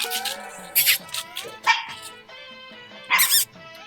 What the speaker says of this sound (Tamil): ரெண்டுமே குட்டி நாய் தானே.